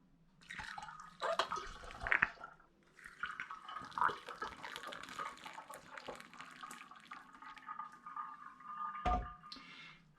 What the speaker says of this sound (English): the tea itself, which has got the hops in it, I'm going to pour through this strainer into my demijohn